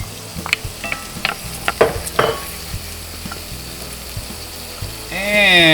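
Onions cooking in melted butter in a pan, a continuous close sizzle broken by several sharp scraping and clinking strokes of a spoon, with a louder hiss swelling near the end.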